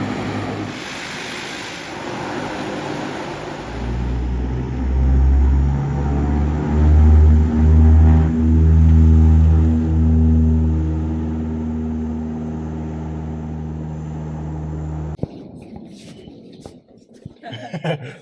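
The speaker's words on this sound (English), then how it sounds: "I'm at the hotel bar and planes are just pulling in" Airplanes pull in at a Greenland airport beside a hotel bar, a loud, rising and falling jet engine roar that swells and then cuts off sharply near the end, with no talking.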